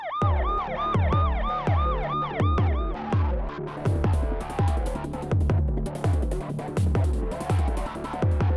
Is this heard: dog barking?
no